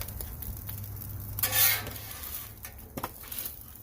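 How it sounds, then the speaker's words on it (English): Two metal spatulas scrape and clatter across a Blackstone griddle while hibachi food sizzles, giving short metallic scrapes and one louder sweep amid light frying noise, heard up close. "Where the two spatulas comes in handy"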